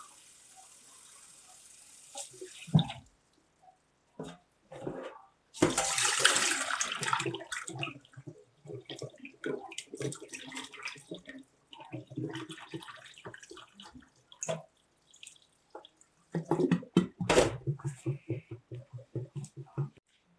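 Nixtamalized Hopi blue corn rinsed in water, with splashing, gushing bursts and sloshing as hands work the kernels, interspersed with a person talking nearby.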